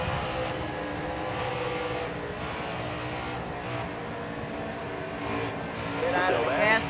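Race truck engines droning in NASCAR Heat 4 during a Gander Outdoors Truck Series race at Atlanta, a sustained buzzing roar that swells near the end, with a spotter's voice talking over it.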